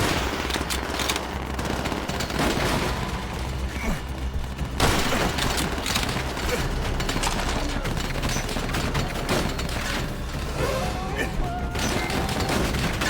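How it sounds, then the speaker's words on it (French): Enemy machine gun fire rattles nonstop in a Call of Duty: World at War battle, loud, dense bursts layered with other gunshots and blasts for the whole stretch, soldiers' shouts buried in the din. "Neutralise sa mitrailleuse. Mitrailleuse ennemie!"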